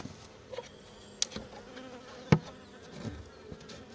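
Bees in a traditional log hive buzzing in a low, continuous drone, with a few sharp clicks and knocks close by.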